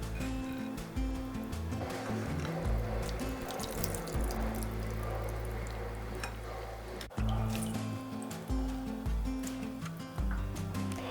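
Tap water runs steadily into a sink while coconut milk is rinsed in a strainer, a close splashing flow with shifting tone and brief squishy handling sounds.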